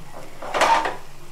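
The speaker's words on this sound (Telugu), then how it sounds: "నేను ఈ ప్లేట్లోకి తీసేస్తున్నాను ఈ కర్రీ అంతానే" Curry scraped from a cooking pot onto a plate on a home stove, a brief burst of clattering dishes rising and fading over about half a second amid quiet kitchen background.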